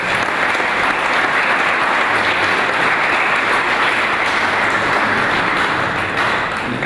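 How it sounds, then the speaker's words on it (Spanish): A hall audience at a Mexican hydraulics association talk on flood risk gives engineer César Solís Gómez steady, loud, dense applause that runs unbroken for several seconds. "Démosle un aplauso al ingeniero César Solís Gómez"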